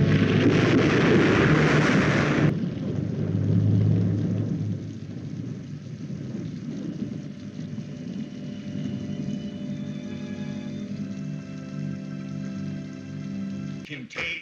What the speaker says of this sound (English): Alvin York becomes religious after surviving a thunderstorm